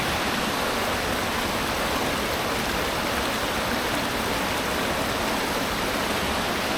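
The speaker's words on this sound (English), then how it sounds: "but look at the waterfall." Steady, full roar of a waterfall in the cloud forest near Mindo, Ecuador, broadband rushing water heard close and loud without pause, no talking.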